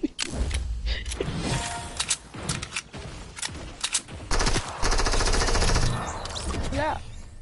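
Rapid gunfire from a sniper rifle in a PS4 shooter, with sharp cracks and bursts packed densely across the stretch, loud and close, mixed with other game noise.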